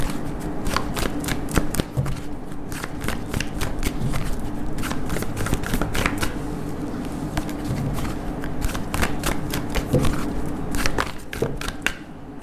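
A deck of tarot cards is shuffled up close for a reading, with rapid riffling and slapping bursts repeating in a steady rhythm throughout.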